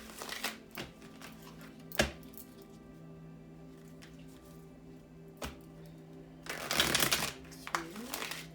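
Tarot cards are riffled and tapped in sharp bursts, with a longer rustling shuffle near the end and quiet pauses between.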